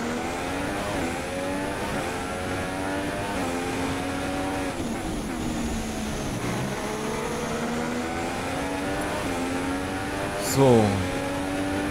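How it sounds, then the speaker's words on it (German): F1 race car engine howling at full throttle in F1 2016, a loud high-pitched scream climbing through rapid gear shifts, with someone talking over it throughout. "hier gibt Vollgas, DRS-mäßig."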